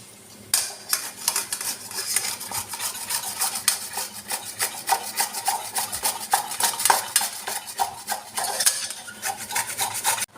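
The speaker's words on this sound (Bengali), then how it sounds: "আমি কুমড়োটাকে খোসা ছাড়িয়ে ভালো করে ধুয়ে গ্রেট করে নেব।" Peeled pumpkin is rubbed against a kitchen grater in quick, close, rhythmic rasping strokes, each scrape sharp and scratchy, with no voices.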